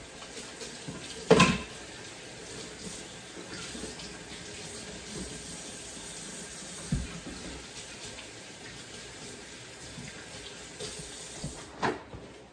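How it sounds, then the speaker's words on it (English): Running tap water at a sink during hand washing in a home kitchen before wrapping spring rolls, a steady broad wash at low level with a couple of brief clinks of dishes. "I gotta wash my hands"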